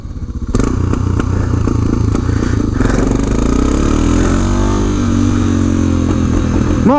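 A loud BMW GS 650 motorcycle engine labours in second gear, struggling uphill, droning steadily with mechanical clatter, its pitch rising as the revs climb toward the end.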